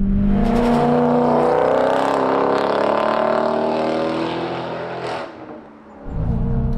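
A tuned, supercharged BMW 645 with a manual gearbox pulls hard in third gear, its engine note rising steadily and loud with supercharger whine, then easing off as revs drop before a brief low idle returns.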